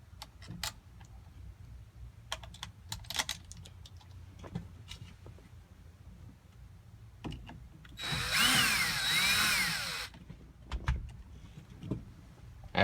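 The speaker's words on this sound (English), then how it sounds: "And finish putting in the rest of the screws." A power drill drives screws into a Forever Sharp A02–A09 adapter in one sustained, loud whirring burst of about two seconds, with scattered clicks and handling knocks before and after.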